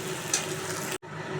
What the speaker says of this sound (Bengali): তো আমার ভেন্ডিগুলো ভাজা হয়ে গিয়েছে